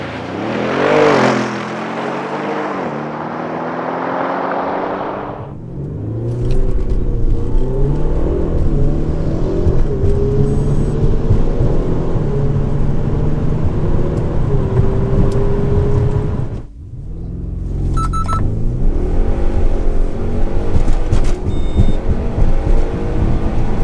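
A 550 hp bi-turbo diesel Audi A6 Allroad and a 600 hp Audi RS6 Performance drag race, engines roaring loudly and continuously as they accelerate, with a short lull before a second burst of hard acceleration.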